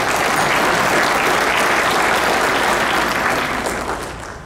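Loud burst of audience applause from a crowd at a libertarian talk, sustained clapping that tapers off toward the end, with no speech over it.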